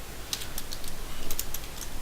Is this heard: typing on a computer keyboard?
yes